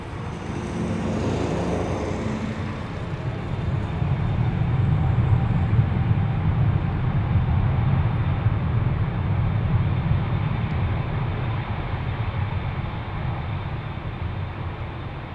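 Airliner engines spool up for departure at Amsterdam Schiphol Airport, a broad roaring rumble that swells after the first few seconds and holds loud and sustained, heard from up close outdoors.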